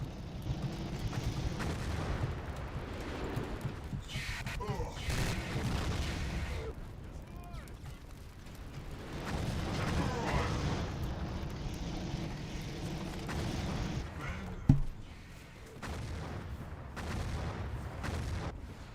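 Battlefield 40K gameplay with grenade explosions and gunfire, a dense continuous barrage of booms and shots running throughout, with one sharp loud blast near the end, under occasional talk.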